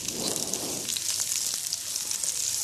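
Cardamom pods and bay leaves frying in mustard oil over a low flame, a steady bright sizzle with soft crackles throughout, close and continuous with no talking.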